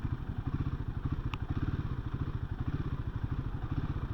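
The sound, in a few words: Royal Enfield Himalayan 450 motorcycle engine revving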